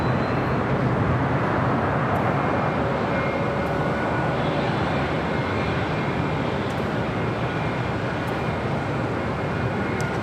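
A jet airliner takes off on the south side of LAX, its broad roaring rumble steady and loud throughout, dominating the scene with no voices.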